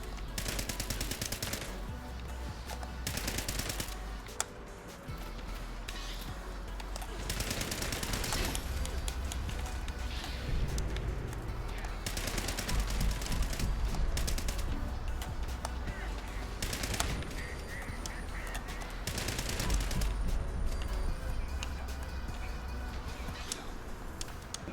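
Rapid bursts of gunfire in a Fallout video game, repeated volleys running almost continuously for about twenty-five seconds, loud and dense with brief gaps between strings of shots.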